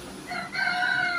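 Roosters crow around a house at about 5:30 in the morning, two overlapping crows rising close and loud within a second, with no talk.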